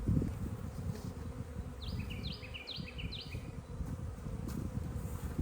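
Honeybees swarm over brood frames at an opened hive during an inspection, a steady low droning buzz filling the whole stretch, with faint bird chirps briefly above it.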